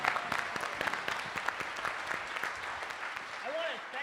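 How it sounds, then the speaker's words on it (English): Audience applause for the Theater of Public Policy, an improv troupe, at a walking summit's closing plenary: dense, steady clapping from a large crowd filling the full four seconds, with faint chirp-like sounds near the end. "make a big round of applause for the Theater of Public Policy"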